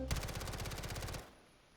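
Automatic gun in a video game firing a very fast burst of evenly spaced shots for about a second, loud and close, then cutting off into a quiet tail.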